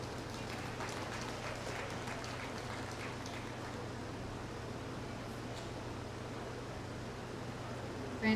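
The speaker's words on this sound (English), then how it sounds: "Let's give them a nice big round of applause." Steady broadband crowd applause at a county fair junior breeding show after champion feeder calves are named, a continuous wash of clapping lasting throughout, with no talk over it.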